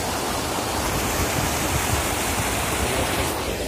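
A stream of water flowing across a road, a steady, loud, broadband rushing with no pauses, close and continuous, with no voices.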